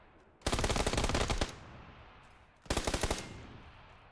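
Two loud bursts of automatic gunfire in PUBG as guards are shot down, the first lasting about a second and the second shorter, with a quiet pause between them.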